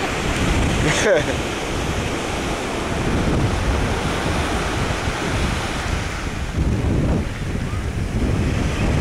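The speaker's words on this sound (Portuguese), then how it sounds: "Vento frio aqui do lado de fora" Cold wind buffets the microphone on a seashore while sea waves surge and break, a loud continuous rush with a brief knock near the start and a fresh swell toward the end.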